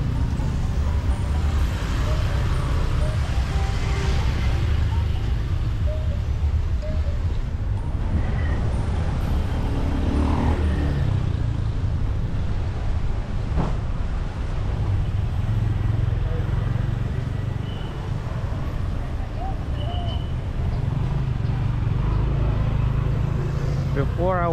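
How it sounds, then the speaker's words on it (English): Scooters and other traffic stream along a street in Kuta, Bali, a steady, loud rumble of engines with passing vehicles throughout and talk underneath. "I can see more and more scooters are coming."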